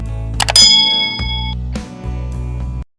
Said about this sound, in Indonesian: bunyikan lonceng notifikasinya